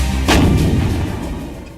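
A Bofors artillery gun fires during the Kargil war: one loud, close boom with a sharp crack, followed by a long rumbling decay that fills the rest of the moment.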